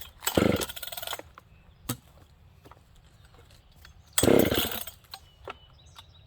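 A Jonsered 630 chainsaw fitted with a wrap bar is pulled over twice, each attempt a brief loud burst of engine noise sputtering out, with quiet clicks and handling noises between them.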